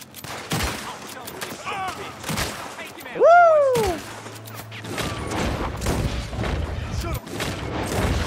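Rapid gunshots crack out in Red Dead Redemption 2, a fusillade of loud, close reports spread across the scene, while a voice whoops with excitement and a whistling tone rises and falls in the middle.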